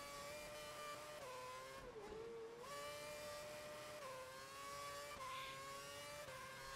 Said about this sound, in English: where you heard the engine revving away